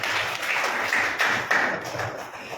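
A church congregation claps hands together in a steady rhythm, a full room of palms striking in time, sustained and fairly loud throughout with no voices standing out.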